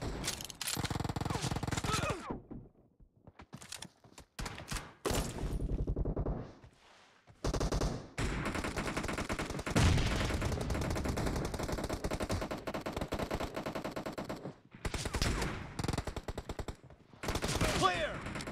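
Rapid bursts of gunfire from the mobile battle-royale game PUBG Mobile, likely a Kar98k team deathmatch, loud and near, firing in dense volleys with brief gaps of quiet between them.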